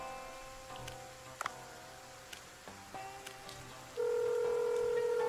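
Telephone dialing in the video game Dave the Diver: a run of short electronic keypad beeps and tones, ending in a steady sustained tone, with no one talking.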